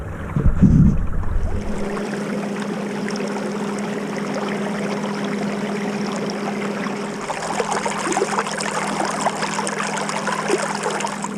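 A homemade duck boat motors across water at full throttle with a steady low drone and constant splashing and trickling. A brief thump comes at the start, and wind noise runs underneath.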